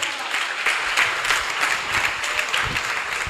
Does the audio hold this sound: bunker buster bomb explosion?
no